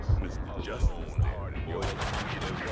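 Gunfire in the Max Payne 2 video game: a few heavy shots land in the first second and a half, then a denser burst of rapid fire follows, close and loud over a steady game background.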